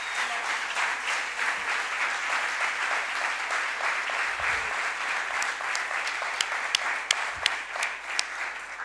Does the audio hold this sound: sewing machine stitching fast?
no